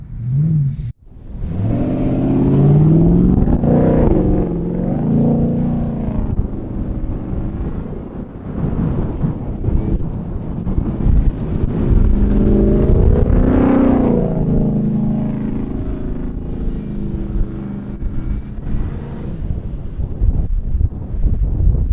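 A 2023 Ford Raptor R pickup truck accelerates up sand dunes, its engine loud and revving in repeated rising surges, heavily buffeted by wind noise throughout.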